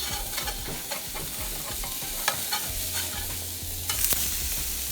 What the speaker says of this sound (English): it's time now for me to flip my burgers. I'm just going to flip it over